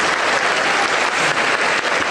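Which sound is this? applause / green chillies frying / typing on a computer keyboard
applause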